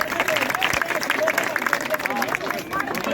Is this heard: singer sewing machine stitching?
no